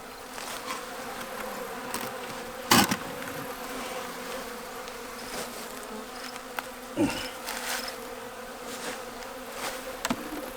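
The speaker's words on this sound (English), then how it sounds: "there's some bees up top here" A steady, dense insect buzz of many honeybees in an opened hive, continuous and close, with a few brief louder knocks and rustles.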